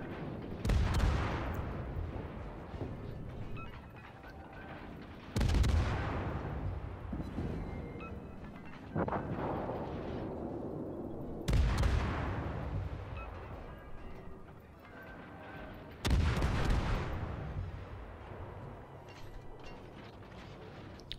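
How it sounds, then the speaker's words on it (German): Naval guns fire on the cruiser Atago in World of Warships, with four heavy booming salvos spaced several seconds apart, each followed by a long rumbling decay. "Deswegen schießen wir jetzt auch nochmal hier auf die Atago"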